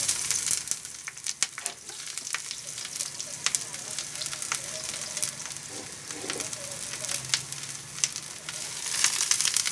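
Eggplant stir-frying in a wok over high heat, a steady close sizzle and crackle of oil with occasional scraping of the spatula, running continuously for several seconds.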